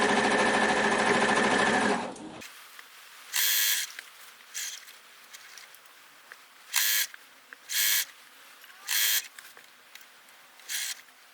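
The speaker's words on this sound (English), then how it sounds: "Okay, so I finished sewing it in." A sewing machine stitches a scrappy spiderweb quilt block from strips and crumbs. A long loud run of stitching is followed by several short separate bursts, with quieter handling sounds between them and no talk.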